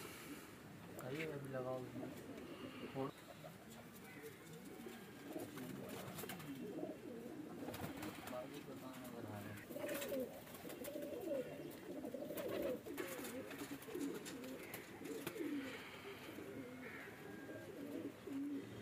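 Pigeons coo repeatedly in soft, throaty rolls amid a busy background of murmuring voices and general outdoor commotion at a pigeon flying competition as birds are stamped.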